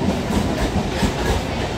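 A Mumbai local train roaring through Dombivli station, a loud, continuous rumble and rattle of passing carriages, close by, with no voices.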